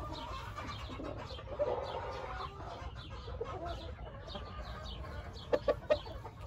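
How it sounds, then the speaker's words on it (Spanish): A pure dark claret hen clucks in a few short, sharp bursts near the end, over a steady low background hum. "La gallina también es claret pura."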